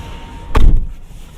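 A single solid thunk as the door of a 2023 Toyota Yaris Cross 1.5S HEV swings shut, heard from inside the cabin: one sharp, heavy close followed by a brief low rumble, then quiet.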